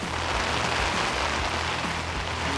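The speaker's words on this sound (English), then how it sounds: "Oh, the howling wind, the pouring rain." Heavy rain pours down in Lithgow, New South Wales, in a continuous dense hiss of drops hitting surfaces outdoors, steady and loud, with no voices.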